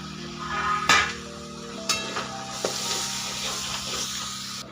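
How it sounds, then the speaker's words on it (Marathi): Cooked chickpeas go into a thick, oily masala gravy for dhaba-style chana masala, giving a soft frying sizzle punctuated by a few distinct spoon-and-pan clanks as they are tipped in and stirred, close and without speech. "आता आपण हे हरभरे शिजलेले त्याच्यामध्ये टाकून घेऊया"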